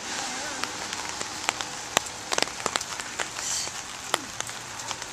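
Rain patters on the ground during an outdoor workout session, a soft hiss broken by scattered sharp drips and taps, with people shouting and talking over it.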